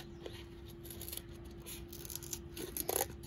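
Scissors cut through cardboard, trimming a whole animal mane in one piece for a cardboard sculpture. The faint, quiet snipping and rasping runs under a steady low hum, growing a little stronger near the end.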